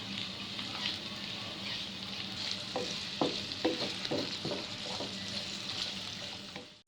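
Sliced garlic rounds frying in a pan, with a steady close sizzle running throughout and some soft scraping and stirring clicks in the middle, no voices.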